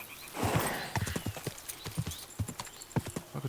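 Horse hooves clip-clop at a steady walking rhythm in Kingdom Come: Deliverance 2, close and moderately loud, with a brief snort or whinny near the start.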